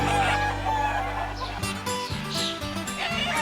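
A León breed fighting-stock rooster crows loudly and close, a long drawn-out call filling the first half, followed by clucking and other fowl sounds with a faint voice in the background.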